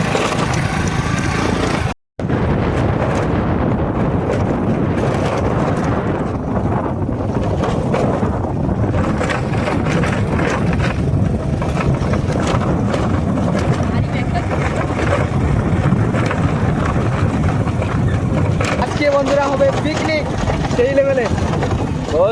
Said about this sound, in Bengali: তো আমাদের নৌকার ধারে সবাই মিলে যাচ্ছি এখন